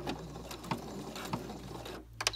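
A sewing machine backstitches a seam's end, sewing in reverse and then forward again with soft mechanical whirring and a few sharp ticking clicks, close by and without talk.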